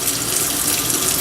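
Tap water runs steadily into a sink while makeup brushes are rinsed, a continuous close splashing hiss with no voices.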